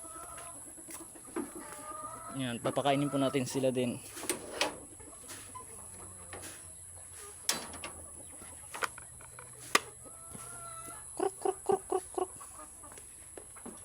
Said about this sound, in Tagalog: may mga sakit na manok.